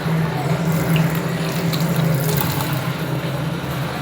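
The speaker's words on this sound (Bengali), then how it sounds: "তো চলো, হাতটা ধুয়ে নিই।" Hands washed under a running tap: a close, steady rush of water splashing into a sink, continuous and fairly loud from start to finish.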